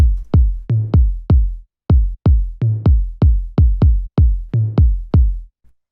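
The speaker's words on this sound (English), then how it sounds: "then we have the kick and this 808 tom, which play together and they sound like this" A punchy electronic kick drum and a deep 808 tom hit together in a syncopated, repeating pattern, each boomy hit decaying quickly, loud and alone.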